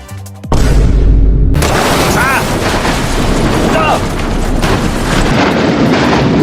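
A bomb blast in a video game bursts in with a sudden loud broadband boom, then rumbles on as a dense, roaring wash for several seconds, with a voice shouting over it.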